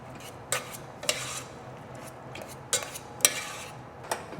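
Soft, irregular scraping and clinking of a utensil against a bowl as a salt cod mixture for codfish balls is mashed and stirred, with quiet gaps between strokes.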